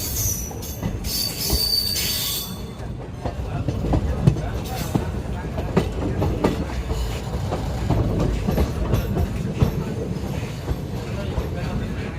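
The 19120 Somnath–Ahmedabad Intercity Express of Indian Railways runs between Rajkot and Ahmedabad with a loud, close, continuous rumble, rhythmic clickety-clack over the rail joints and wheel squeal, with faint voices in the background.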